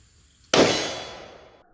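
A single sharp, loud blast from a Ruger Alaskan .454 Casull revolver cracks out close by, then its bright ringing decays over about a second into quiet, with no voices.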